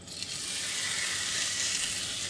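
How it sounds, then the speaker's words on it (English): Steady, loud sizzling of flank steak searing in a hot pan, a continuous bright crackle and hiss with no talking. "You want to hear a sizzle as soon as you hit the meat"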